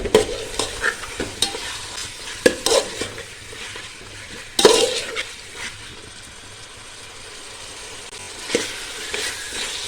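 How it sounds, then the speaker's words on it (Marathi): Chicken frying in a pan over high flame is stirred repeatedly, a steady sizzle under irregular scraping and clinking of a spoon against the pot, close and moderately loud. "हाय फ्लेमवर त्याला परतत राहायचं"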